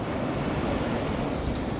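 Ocean surf washing up on a sand beach, a loud, continuous broadband roar close by with no distinct breaks and no voices.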